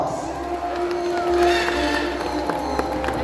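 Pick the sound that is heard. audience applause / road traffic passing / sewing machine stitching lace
audience applause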